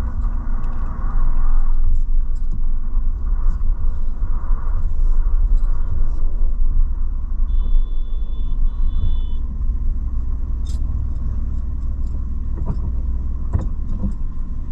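A Maruti Celerio car being parked gives off a low, steady engine rumble close by, with faint beeps and small clicks over it and no talking.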